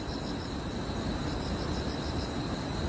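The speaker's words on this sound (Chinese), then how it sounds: "现在只听得到虫鸣声。" Insects chirp steadily at night outdoors during summer car camping, a thin, constant high trill over a soft, even background hiss.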